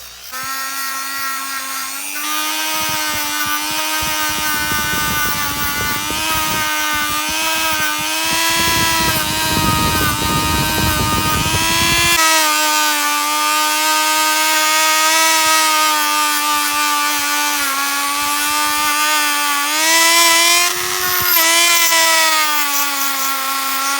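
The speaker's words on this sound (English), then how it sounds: "we're just going to give the Eldorado a clean with the polish with the multi-tool" A multi-tool polishes a Corgi Rockets Cadillac Eldorado diecast car with a steady, loud, high-pitched rotary whine that rises and dips slightly in pitch, with grinding contact noise at times, running throughout without talk.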